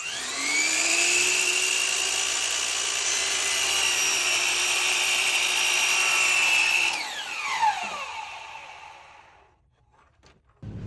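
A miter saw cuts baseboard trim during installation, a loud sustained whine that holds steady for about seven seconds, then winds down in a falling sweep, followed by brief quiet and a couple of knocks.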